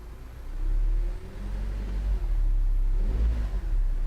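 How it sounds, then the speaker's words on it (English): A car engine revs hard against the brakes in reverse and forward during a power brake test on a vehicle with suspect engine mounts, a loud steady low rumble that swells and holds for about four seconds with no talk. "Let's give it a little power brake and make sure it doesn't try and run itself out of the car."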